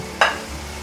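White radish and mushroom are stir-fried in a pan, with one short, sharp scrape and sizzle from the spatula followed by a low, quiet simmer.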